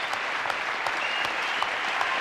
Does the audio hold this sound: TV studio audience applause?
yes